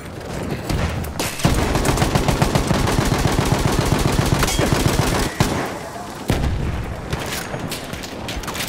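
Battlefield 1 online gameplay erupts in dense, continuous gunfire: rapid automatic bursts and heavy booms, loud and close, with only a couple of brief pauses before the shooting resumes.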